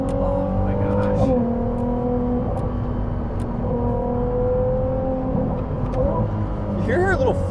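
A Ferrari 296 GTB Assetto Fiorano drives on a rainy day, its engine and turbos humming and whirring steadily under the cabin noise while people talk over it.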